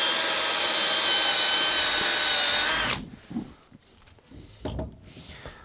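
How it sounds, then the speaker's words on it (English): A power drill whines loudly and steadily for a few seconds boring a pilot hole in wood for a lathe screw chuck, then stops, leaving light handling noises and clatter. "We need to just drill a pilot hole."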